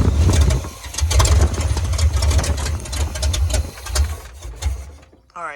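Chevy squarebody truck engine running after a carburetor rebuild, a close, rough idle with uneven low pulsing and mechanical clatter, steady for several seconds before easing off near the end.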